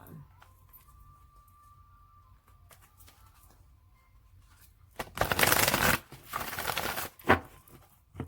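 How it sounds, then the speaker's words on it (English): Tarot cards are shuffled in two or three brisk, loud riffling bursts near the end, after a quiet stretch with faint background sounds. "Shuffle it one more time."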